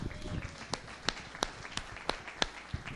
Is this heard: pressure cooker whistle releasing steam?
no